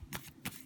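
A deck of reading cards is shuffled in hand, two quick papery riffles close by with a short pause between them.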